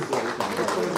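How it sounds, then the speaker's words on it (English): Audience applause at a university ceremony, a brief burst of dense clapping heard up close for about a second. "Round of applause, please."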